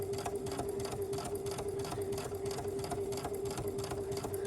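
A domestic sewing machine runs a long top-stitching seam with a bi-level foot, giving a close, even mechanical whir with a fast regular needle rhythm and a steady motor hum throughout, no talking.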